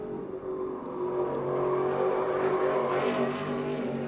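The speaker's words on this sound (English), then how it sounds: "you can hear the tire squalling over the engine" A loud race truck engine drones and revs steadily during practice or qualifying, with a high front tire squeal rising over the motor noise in the second half.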